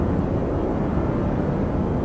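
The engine of a Crusader Intrepid spaceship in Star Citizen runs at full throttle, a loud, steady low roar that stays constant throughout with no voices over it.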